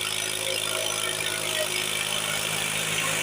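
A tractor engine runs steadily close by during field work with a rotavator, a continuous mid-pitched drone with a faint rattle. It holds even throughout and is heard alone, with no voices.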